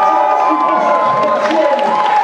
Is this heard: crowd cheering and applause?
yes